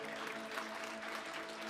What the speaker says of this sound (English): yeah, that's worth clapping about, sure.